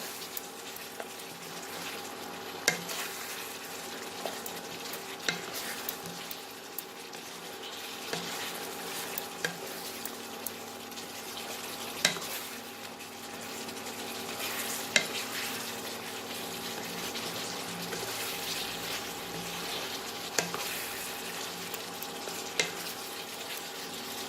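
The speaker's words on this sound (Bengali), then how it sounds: "দিয়ে এটাকে খুব ভালো করে মিশিয়ে নিয়ে 1 মিনিটের মধ্যে একটু নাড়াচাড়া করে আমি নামিয়ে দেবো" Fried eggs in a spicy chilli sauce are stirred in a pan for a Chinese-style dish, a steady low sizzle broken by repeated scraping clicks of the spoon against the pan, with no one speaking.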